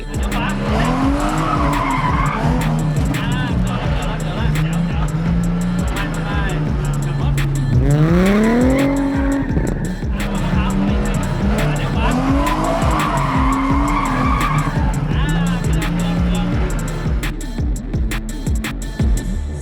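A car drifts with loud, sustained tire squeal over a revving engine, the screech rising and falling in pitch as the car slides through turns, with voices talking over it.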